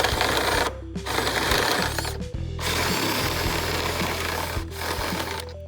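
Step drill bit enlarging a hole in the trunk lid of an FE Civic sedan, a loud grinding, rasping drill whine in long bursts separated by brief pauses, close up with no talk.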